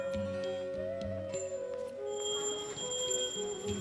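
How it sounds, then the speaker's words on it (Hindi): Large temple bells at a pagoda-style temple in Sarangkot, Nepal ring with sustained metallic tones, several overlapping strikes decaying slowly over a steady outdoor ambience. "आसपास अनेक विशाल घंटियां भी स्थापित थीं।"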